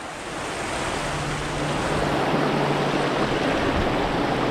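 River rapids rush in a dense, steady roar of flowing water, loud and close, building slightly over a few seconds with no voices.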